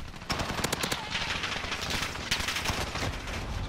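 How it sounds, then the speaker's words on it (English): Continuous automatic gunfire rattles in Call of Duty Black Ops 3, with sharp rapid bursts and clustered shots repeating over nearly four seconds at fairly loud volume and barely any pause. "he does not stop shooting"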